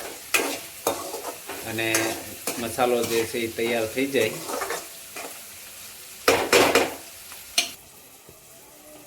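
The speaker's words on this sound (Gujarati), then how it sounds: "પછી આપણે એને ધીમે ધીમે હલાવતા રહીશું, જેથી કરીને ડુંગળી મરચાં આ બધું તેલની અંદર ભળી જાય" Onions and green chillies frying in oil in a kadai for dry cabbage Manchurian, stirred with a utensil that gives intermittent scrapes and taps over a soft sizzle, with a person talking over much of it.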